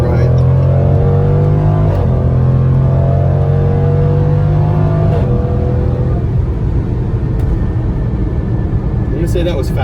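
A 2019 Jaguar F-Pace SVR accelerates hard on open road, its loud engine heard from inside climbing steadily in pitch, then dropping at gear changes before pulling up again.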